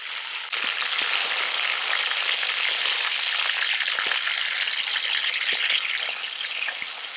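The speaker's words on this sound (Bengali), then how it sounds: "পেঁয়াজ ভাজা তেলের মধ্যে আমি চিকেনগুলোকে একটুখানি ভাজবো" Chicken pieces fry in oil left from frying onions, giving a loud, even hiss with fine crackles and a few soft stirring knocks throughout.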